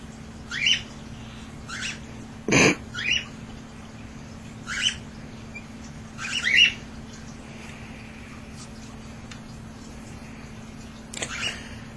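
Nine-day-old baby cockatiels give short, raspy squawks in about six scattered bursts, faint and close over a steady low hum, with one sharp click partway through.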